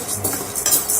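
Urad dal dry-roasts in a pan for idli podi while a utensil stirs it, making a quick series of close metallic scrapes and clinks over a soft rustle of the lentils.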